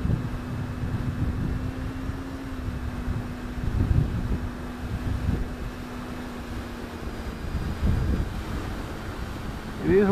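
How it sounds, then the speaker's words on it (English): Wind blows at a model airplane flying field, a steady, rumbling gust noise battering the microphone and rising and falling in bursts, while a faint, steady drone from the flying aircraft hums underneath. "It is windy today up there, I get it."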